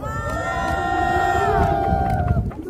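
A crowd at a political rally at Chonnam National University in Gwangju cheers and shouts together, a sustained burst of voices that swells and then fades out, with speech babble mixed in.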